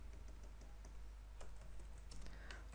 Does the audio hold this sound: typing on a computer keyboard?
yes